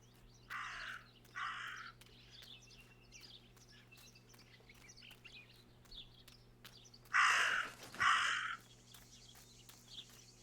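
Two pairs of harsh raven caws in the video game Martha Is Dead, one pair early and a louder, nearer pair later, over a quiet steady ambient hum with no talk.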